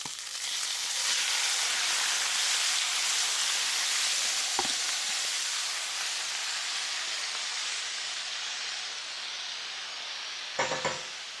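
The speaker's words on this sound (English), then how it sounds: "we're actually going to deglaze with the jus, the liquid from the bottom of the slow cooker." Grouper carnitas sizzling loudly in a hot pan as it is deglazed with slow-cooker jus, a steady bright hiss of frying with a couple of brief clinks from a utensil.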